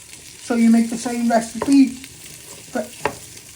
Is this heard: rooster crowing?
no